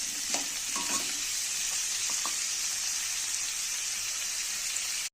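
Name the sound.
potatoes and onions frying in a pan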